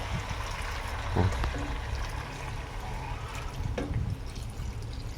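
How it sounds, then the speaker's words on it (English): Water poured into a pot of apple, potato and pork casserole, a soft continuous trickle and splash over a steady background hiss, fairly faint, with a couple of brief knocks. "Then add a bit of water."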